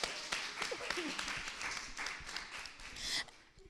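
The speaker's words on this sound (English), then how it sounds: "So give her a hand clap as well." An audience at a talk show applauds a celebrity fashion designer and stylist, with dense hand claps and scattered voices mixed in throughout.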